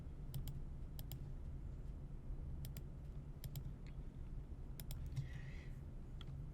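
Soft, scattered keystrokes on a computer keyboard, in short bursts of two or three clicks over a steady low hum, faint and close with no speech.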